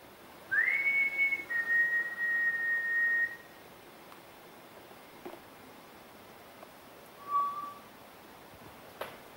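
A single person whistles a clear rising then sustained tone lasting about two seconds, followed by a brief faint answering whistle a few seconds later, in a quiet room with low background hiss and no talk.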